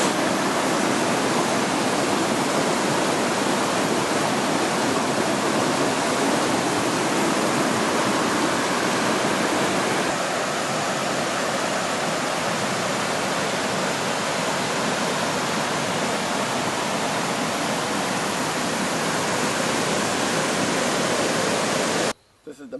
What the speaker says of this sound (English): This is a little river, no? Little river runs all year round.